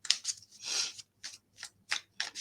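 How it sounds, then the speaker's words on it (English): Tarot cards being shuffled by hand, a series of short, crisp papery riffles and flicks in an uneven rhythm, close and fairly loud against silence. "I go to shuffle and the cards just take off."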